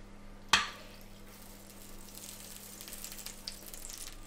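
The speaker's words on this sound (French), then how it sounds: "Et on fait cuire les Saint-Jacques." Scallops searing in clarified butter in a pan, a sharp hiss as they hit the fat, settling into a quiet steady sizzle, nearby with no talk.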